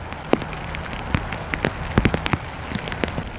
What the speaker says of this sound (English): You can hear the rain coming now, can't you?